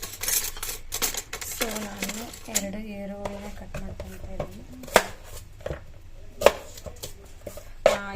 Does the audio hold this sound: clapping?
no